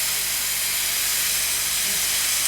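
Lamb shoulder grilling with rosemary, giving a steady, close, hissing sizzle that holds at an even level without a break.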